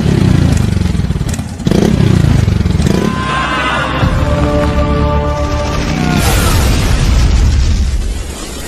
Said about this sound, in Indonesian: Danu mengorbankan dirinya dengan menabrakkan motornya dengan mobil Kapten John.